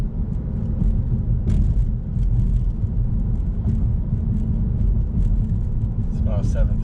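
Steady low road rumble and engine drone from inside a car driving around on delivery runs on a July evening, constant and close throughout with no clear speech.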